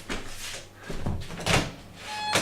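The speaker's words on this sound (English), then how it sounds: "just got to open the door for a friend" A door opened at home, giving a few dull knocks and rattling bumps spread across a couple of seconds, fairly close and moderately loud, with no clear talk.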